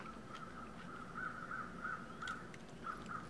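Crows in the survival game The Long Dark give a series of short, regular caws from a distance over a steady ambient wind-like background, with no talking.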